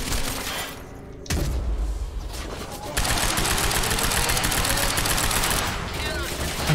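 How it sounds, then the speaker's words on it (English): Heavy machine gun fire in the video game Quantum Break pounds as a loud, sustained barrage, with a deep thud early on and then an unbroken roar of rapid shots. "Heavy machine gun guy is coming."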